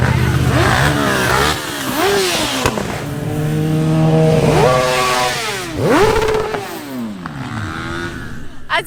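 Several motorcycles roar past one after another on the road to Kineta beach, Greece, engines rising and falling as each passes close by, loud and overlapping.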